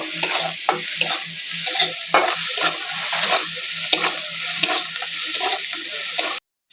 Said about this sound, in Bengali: লবণটা দিয়ে পেঁয়াজটা আরেকটু ভেজে নেবো।